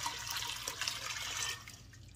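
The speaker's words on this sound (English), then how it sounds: "I'm going to cover it with water" Water pours steadily into an Instant Pot over unsoaked pinto beans, a soft continuous splashing rush that eases off toward the end, heard alone and quiet.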